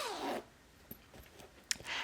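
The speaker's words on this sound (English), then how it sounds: "test your zipper to make sure it works properly" A few brief zipper pulls on a sewn fanny pack zipper panel, one long rasp at the start and a couple of short sharp zips later, close and fairly quiet with pauses between.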